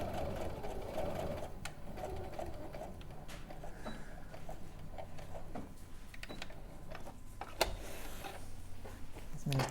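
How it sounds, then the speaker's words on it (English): A Brother sewing machine stitches fabric in long continuous runs with brief pauses, moderately loud and close, with faint background sounds and no speech over it. "Rebecca's using the Brother sewing machine."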